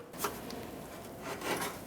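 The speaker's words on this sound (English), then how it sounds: "For this rear shield, slide it into the front first" A metal rear underbody shield on a 2008-2012 Jeep Liberty 4x4 scrapes and slides into the front shield, giving faint rubbing, rasping sounds in two short bursts.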